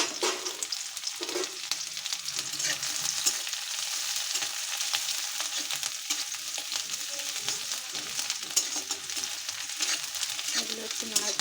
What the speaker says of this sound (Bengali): এখন আমি এতে পেঁয়াজ আর কাঁচা লঙ্কা কুচি দিয়ে দিলাম।